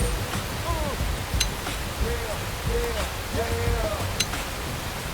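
Rain falling at night in the video game Xenoblade Chronicles X, a steady broadband hiss with scattered drop ticks, while characters speak quietly in the background.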